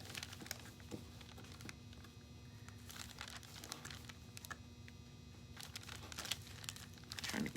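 Craft knife cutting into a cast two-part epoxy resin ornament, tracing a small arch inside an umbrella shape: faint, close, irregular scraping and crackling cuts with small clicks, quiet throughout and with no talking.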